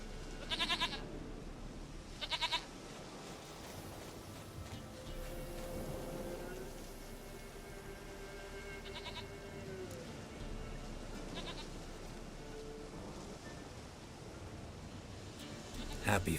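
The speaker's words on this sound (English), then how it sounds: "Goat of mine, dearest, sweetest goat." Goat bleats in Witcher 3, several short nasal calls in separate bursts against a low game ambience and faint background tones.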